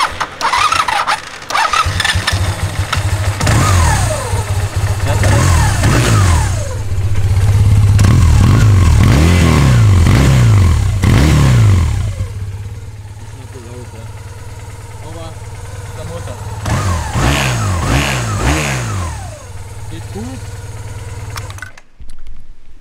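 A 1987 Honda CB450S twin-cylinder motorcycle engine cranks and fires, then revs repeatedly with rising and falling pitch before settling to a lumpy idle, loud and close, with someone speaking briefly over it.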